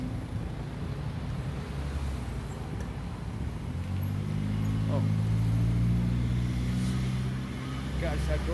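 A minibus rides along a road, its engine and tyre rumble steady and close throughout, while people talk over it inside the vehicle.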